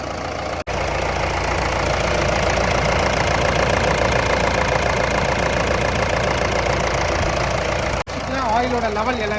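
A worn Mahindra Bolero Camper engine with bore trouble runs steadily and loudly close by, a dense continuous drone with slight knocking texture, briefly cut twice, with a voice talking over it.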